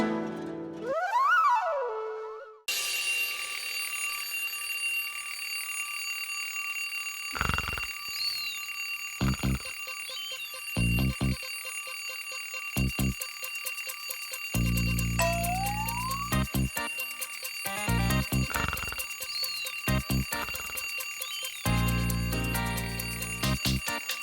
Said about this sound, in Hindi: अलार्म कब से बज के बजे जा रहा है